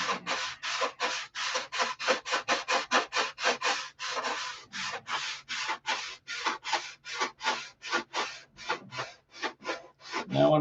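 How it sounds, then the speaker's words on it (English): Wood sheeting is sanded by hand with sandpaper in quick, regular rasping strokes, about two or three per second. Each stroke is close and distinct, with no speech. "you have to sand in two directions, this way and this way,"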